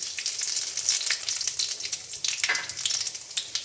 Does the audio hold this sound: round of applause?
no